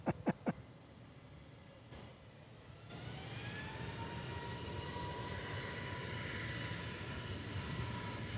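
Aircraft engine noise at DFW International Airport, a steady roaring whine that rises and then holds at moderate distance, after a few sharp clicks at the start.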